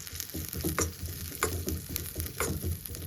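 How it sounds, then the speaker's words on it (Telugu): Sesame seeds dropped into hot ghee crackle and sizzle steadily, with a few sharper pops and a stirring scrape, close and fairly loud with no talk. "ఇప్పుడు ఈ నెయ్యి వేడెక్కింది కదండి, దీంట్లో కొంచెం నువ్వులు వేసుకుందాము."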